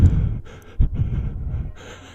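Heavy breathing down a phone line in a scary story, with slow, close, raspy breaths and gasps that come in uneven waves and have no words.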